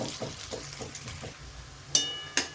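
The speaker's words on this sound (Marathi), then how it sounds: "कांदा छान परतून घेऊया" Onion sautés in a pan for a spicy stuffed crab masala: a soft steady sizzle under rhythmic spoon scrapes, then two sharp metallic clinks near the end, close and moderately quiet, with no voices.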